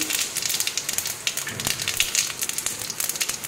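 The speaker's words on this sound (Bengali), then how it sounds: "গোটা গরম মশলা, তেজপাতা, শুকনো লঙ্কা ফোড়ন দিয়ে দিলাম, গোটা জিরে ফোড়ন" Whole garam masala, bay leaf, dried red chilli and cumin seeds crackle in hot oil in a home kitchen, a steady close sizzle with scattered sharp pops throughout.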